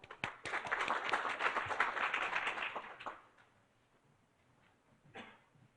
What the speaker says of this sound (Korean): 다 함께 큰 박수로 서상범 센터장님을 맞아주시기 바랍니다